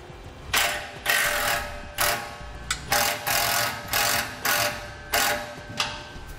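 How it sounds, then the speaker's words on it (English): A ratchet loosening a 15mm muffler clamp nut on a vehicle exhaust, giving repeated loud, close bursts of rapid clicking in steady strokes about every half second to second, with no talk. "Now we'll loosen up the clamp that's at our muffler."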